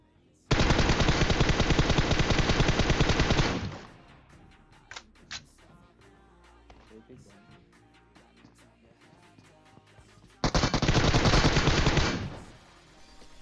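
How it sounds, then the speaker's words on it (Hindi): Sustained automatic bursts from a UMP-45 submachine gun in the battle royale game PUBG, two loud rapid-fire strings separated by a quieter stretch with a couple of isolated shots. "गन चला रहे हैं भाई, UMP-45 चला रहे हैं"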